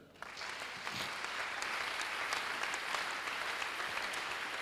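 A church congregation breaks into sustained applause, dense clapping from a crowd that starts abruptly and holds steady throughout, with no speech over it.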